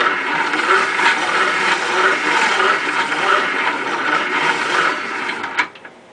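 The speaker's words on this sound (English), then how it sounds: "With a hand crank grinder and a little bit of jeweler's rouge" Hand crank grinder working a woodcarving gouge with jeweler's rouge, a continuous rough whirring grind held steady for several seconds before tapering off with a small clack near the end, close and fairly loud.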